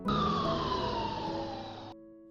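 An ambulance siren wails loudly and close, its tone sliding steadily downward for about two seconds before cutting off abruptly, leaving a faint lingering hum.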